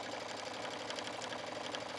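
A sewing machine stitches around the bulky sleeve of a sweater, a steady quick mechanical whirr with fine rapid ticking, close but fairly quiet and alone.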